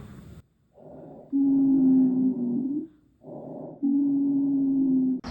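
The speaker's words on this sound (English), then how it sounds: "Yes, it does sound classic wheezing." Two slow breaths in and out, each carrying a steady, musical whistling wheeze, close and fairly loud, with short quiet gaps between.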